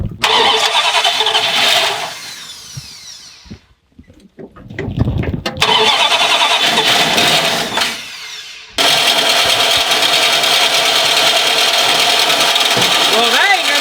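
An old Dodge M880 W-200 military pickup truck engine cranks repeatedly in loud, sustained bursts with brief pauses between attempts, sputtering without catching, close up; a voice is heard in the background.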